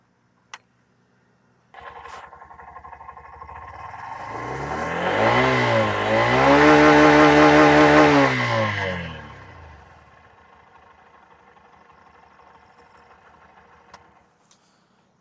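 A Honda SP 125 motorcycle starts with a click, then settles into a steady idle. It climbs into one sustained, loud rev that peaks and holds for a few seconds before falling back to a quieter idle and cutting off.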